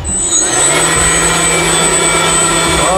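A homemade vacuum cleaner built from a drone motor and propeller runs loud and close, giving a steady high-pitched whine over a rushing roar of air throughout.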